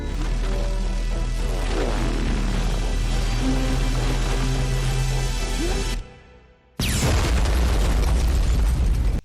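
A magic wand explodes in an animated cartoon with a loud, dense boom and roaring blast that fills the first six seconds, then cuts out briefly before another loud burst of sound.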